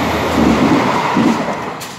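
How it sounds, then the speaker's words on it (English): A through train to London passing nearby, a loud steady rumble and roar with faint rhythmic wheel clatter throughout, no talk over it. "Through train to London, I think. Yeah, it's pretty noisy."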